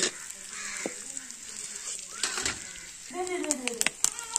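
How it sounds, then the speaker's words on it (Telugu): Fish pieces frying in hot oil in a home kitchen, a faint continuous sizzle with occasional sharper crackles and utensil clinks, while a voice talks over it throughout. "బాగా నూనెలో వేయించుకోవాలి ఫ్రెండ్స్."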